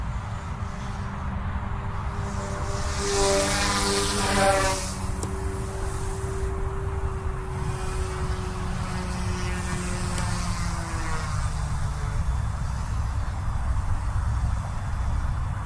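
An OMP M2 EVO radio-controlled helicopter comes in to land on its maiden flight, a continuous whirring rotor and motor whine with shifting pitch over steady outdoor wind noise.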